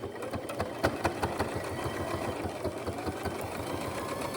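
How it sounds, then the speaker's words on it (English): A sewing machine stitches fabric slowly along the edge for a zippered pouch, a steady rapid mechanical clatter of the needle at an even pace, close and moderately quiet. "The left edge of our presser foot is even with this edge of our fabric. We're stitching right on the edge."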